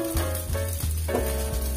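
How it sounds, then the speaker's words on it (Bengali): Rohu fish fillets frying gently in oil in a covered pan, giving a steady close sizzle with soft crackling and a few rhythmic low thumps throughout. "প্রতি সাইড আমরা ঢেকে 2-3 মিনিট করে ভেজে নিব হালকা করে"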